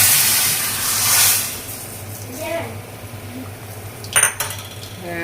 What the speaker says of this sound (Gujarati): હવે આ વઘારને આપણે ડાયરેક્ટ છે ને એની ઉપર નાખી દઈશું